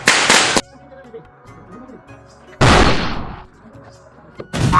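Firecrackers bursting outdoors, two sharp, loud cracks close by, one at the start and another midway, each followed by a fading echo, with a third burst beginning at the end and faint voices between.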